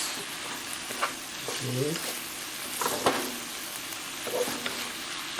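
Oyster mushrooms and young ginger stir-fry in a hot pan, giving a steady close sizzle with scraping stirs, while a voice speaks briefly over it.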